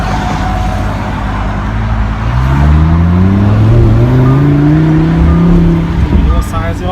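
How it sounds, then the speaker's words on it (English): A 2017 Lamborghini Huracan Spyder LP610-4 accelerates on a test drive, its engine note rising in pitch through the gears from a low rumble, loud and close, with voices talking intermittently. "So right now I'm test driving the Huracan."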